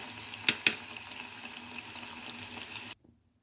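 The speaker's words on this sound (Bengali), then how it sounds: "এগুলো এখন আমি তুলে নেব তুলে বাকি পেঁয়াজটা ভেজে নেব" Sliced onions deep-frying in a pot of oil give a steady bubbling hiss, with two sharp metallic clinks early on before the sound cuts off abruptly near the end.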